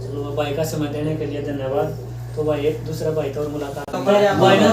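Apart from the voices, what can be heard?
None of the usual background noises is heard.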